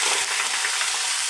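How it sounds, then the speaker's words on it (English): Meat hitting hot olive oil in a pan, a loud, bright, continuous sear hiss up close, with no voices over it. "With that olive oil heating up, we're gonna take our meat, throw it on in there"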